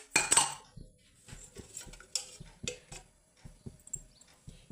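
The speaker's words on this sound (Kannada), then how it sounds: "ಅದನ್ನು ಸ್ವಲ್ಪ ಗೂರಾಡಿಸ್ಬೇಕು." A utensil stirs rice with salt and oil in a cooking pot, giving scraping, clinking strokes in an irregular rhythm, close and fairly quiet, with a louder clatter at the start.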